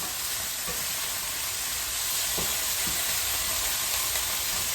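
Chicken pieces browning in a hot pan for chicken scampi, giving a steady, moderately loud sizzle with a faint hiss of steam and a few light stirring knocks, no voices.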